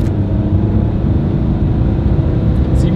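An Audi, BMW or VW car pulls away on a snowy road, its engine giving a steady, close, low rumble that holds throughout, with a faint high tone near the end.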